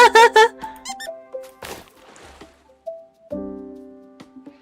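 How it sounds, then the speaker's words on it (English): Bright, tonal squeaks from a cute creature in a mushroom landscape-building video game, several short chirpy bursts and sliding pitched tones with pauses between, close and clear with no talk over them. "Squeaky!"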